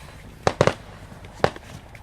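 Fireworks go off outside in sharp, separate bangs, a single pop followed by a quick double crack and another pop a moment later, heard from close range over a quiet background.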